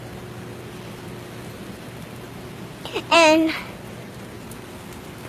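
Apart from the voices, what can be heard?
rain falling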